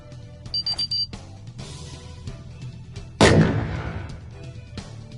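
A single loud gunshot from aiming and firing a weapon in the Dyschronia VR game on PSVR2, a sharp blast that rings off in a decaying tail, preceded by a short series of beeping electronic tones.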